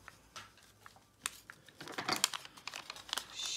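Paper being folded and creased by hand to shape a butterfly for a budget art journal, giving close, dry crinkling and soft scraping in short bursts that grow busier toward the end, with no talk over it.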